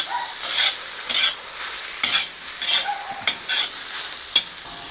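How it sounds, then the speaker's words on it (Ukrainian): Carrots and onion sizzling steadily in a hot pan, with occasional stirring scrapes and clicks over the constant frying hiss; close, no voices. "морква з цибулькою смажиться,"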